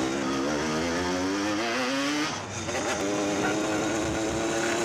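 In GTA San Andreas, an RD-135 motorcycle accelerates hard with a loud, buzzing two-stroke whine that climbs in pitch, dips briefly as the rider shifts, then revs up again, steady and close.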